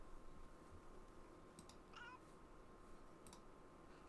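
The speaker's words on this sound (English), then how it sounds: "Fanciful meow." A single faint cat meow rises briefly in the Kentucky Route Zero game, set against quiet ambient hum and a few soft clicks, with no speech.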